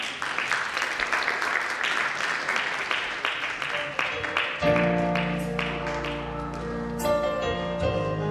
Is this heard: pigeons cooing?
no